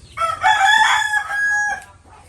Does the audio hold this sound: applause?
no